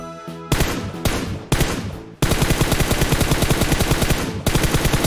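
Rapid bursts of automatic gunfire in PUBG Mobile, loud and close, with a few short volleys before one long sustained stream of shots.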